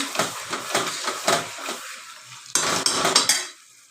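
Chicken being sautéed with ground spice paste and garlic in a pan, heard as loud, close scraping and clattering strokes of a utensil against metal over a low sizzle, with no talk.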